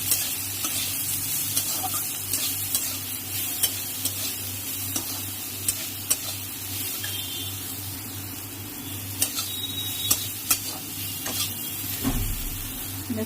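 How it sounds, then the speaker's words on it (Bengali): Green banana fries with nigella seeds, chilli, salt and turmeric in a pan, giving a steady close sizzle broken by occasional scraping stirs with a spatula. "আর একটু ভাজা ভাজা করে নেব।"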